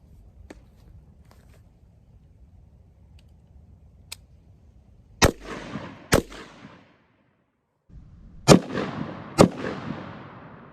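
Two .223 rounds from an AR-15 are fired through household walls, giving loud, sharp cracks that come in two close pairs with brief decaying tails. Quiet background and short gaps separate the pairs.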